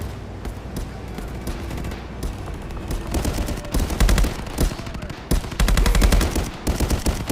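Rapid bursts of gunfire from a first-person shooter as a player fires a rifle at bots in single-player mode, with loud sharp volleys coming in clusters and short pauses between them.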